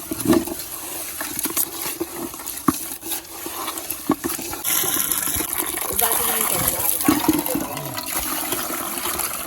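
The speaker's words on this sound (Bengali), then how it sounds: "ভালো করে ধুয়ে নেওয়া হচ্ছে, ভালো করে ধুয়ে নেওয়া হচ্ছে মাছগুলো" Fish pieces are washed in water in a kitchen, with splashing, gushing and sloshing that grows steadier toward the end, while a voice talks over it.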